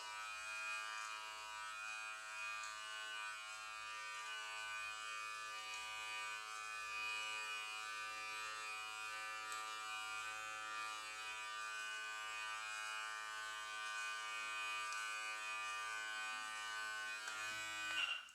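An electric beard trimmer fitted with a guard buzzes steadily while trimming a short beard, a faint, continuous close hum with a bright whine running unbroken throughout and no talk.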